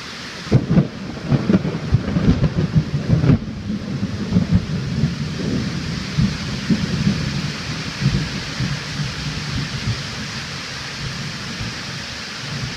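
Heavy rain drums steadily on a tin roof while thunder cracks and rumbles loudly during the first few seconds, then a dense, continuous downpour carries on alone.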